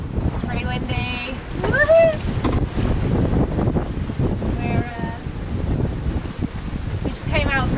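Strong wind roars across a sailboat running downwind, a constant heavy buffeting rumble with brief faint voices rising above it.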